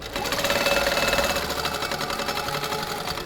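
A sewing machine runs in steady, continuous bursts while stitching a circular border on a quilt. The motor hum is close and even, with a rapid mechanical chatter and no voices.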